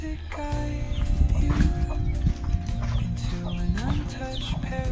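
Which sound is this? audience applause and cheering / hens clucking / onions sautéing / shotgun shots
hens clucking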